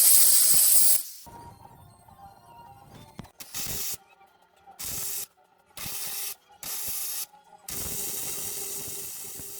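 A homemade angle grinder cutter chops through a metal floodlight bracket, with a loud grinding burst at the start, then quieter mechanical rattles and several short, loud, evenly spaced cutting bursts.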